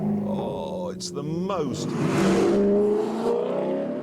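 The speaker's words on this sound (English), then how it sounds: "soulful sounding car I think I've ever heard" An Alfa Romeo 8C engine and exhaust rev and roar, the pitch climbing and sweeping up loudly as it accelerates, while someone talks over it.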